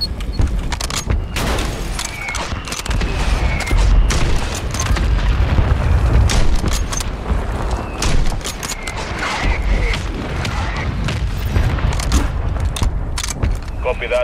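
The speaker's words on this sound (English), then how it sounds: "Mortar strike on the way." Mortar strike explosions in Warzone 3 come as repeated loud booms and crackling bursts through a dense, continuous battle din, with voices talking over the chaos throughout.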